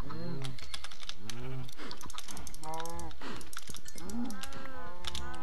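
Cows in the video game Minecraft moo several times in a row, each call a short bellow that bends in pitch, mixed with quick clicking of a computer keyboard.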